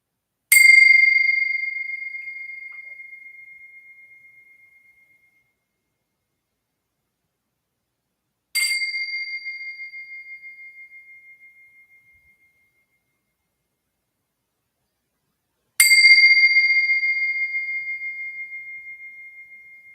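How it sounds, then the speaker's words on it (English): Three bells struck one at a time, each a clear bright ring left to fade fully into silence before the next, evenly spaced and resonant, with no talking in between. "So let's do our 3 bells."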